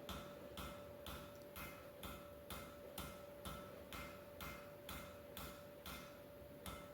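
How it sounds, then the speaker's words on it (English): Hot steel leaf stem hammered on an anvil, a regular series of sharp metallic strikes about two per second, fairly faint, with a steady ringing tone underneath. "So I rotate over and back 90 degrees as I'm hammering."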